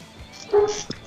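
Dogs barking and whimpering in the background while squabbling over a chew stick, a short yip and whine followed by a sharp bark, moderately distant.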